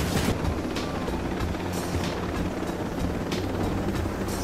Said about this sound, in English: The helicopter's like full tilt.